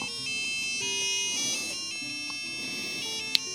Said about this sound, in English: I'm hearing a lot more than two beeps there.